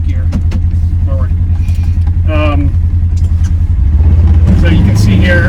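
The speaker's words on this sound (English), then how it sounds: "let's put it in gear. Forward." A 2025 Polaris Ranger XP1000 NorthStar utility vehicle idles and gets shifted into forward gear in a snowy wood yard, its low engine drone steady and close while a voice talks over it, the engine rising louder near the end.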